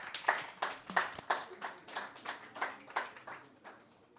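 A small hackathon audience claps in a slow, even rhythm, each clap distinct and fairly close, about a dozen beats fading toward the end with no talking.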